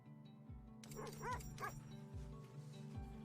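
Sled dogs in The Red Lantern give a short run of faint yips and whining cries over a steady low musical drone.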